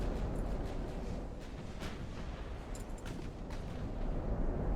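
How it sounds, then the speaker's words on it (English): A torpedo explosion rips into a battleship in the naval strategy game Ultimate Admiral: Dreadnoughts, a loud, sustained rumbling blast with scattered sharp cracks, heard alone without talk. "Oh, my destroyers must have torpedoed it."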